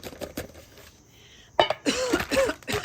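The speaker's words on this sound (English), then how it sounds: "I think I'm immediately coughing from the heat." Coughing fits from someone cooking a spicy chili marinade, with a whole can of chilies and peppers going in, likely on a griddle. Short bursts of coughs and throat-clearing come after a quiet stretch, with faint kitchen clatter.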